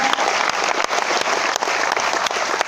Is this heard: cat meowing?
no